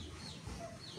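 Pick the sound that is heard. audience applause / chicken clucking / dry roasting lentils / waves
chicken clucking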